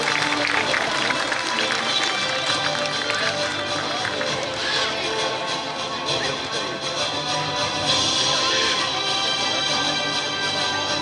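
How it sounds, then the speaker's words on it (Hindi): Sustained applause from an audience welcoming an honoree on stage at a corporate anniversary event, a dense, steady clatter of many hands lasting throughout, loud and continuous, with crowd murmur underneath. "जोरदार तालियों से स्वागत करें"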